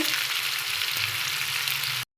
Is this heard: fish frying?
yes